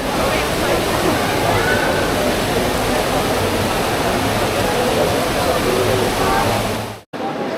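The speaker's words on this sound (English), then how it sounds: "we had a pretty good view of the Trevi Fountain from the upper level" Water of the Trevi Fountain in Rome pours and splashes in a loud, steady, broadband rush that holds evenly throughout, then cuts off abruptly near the end.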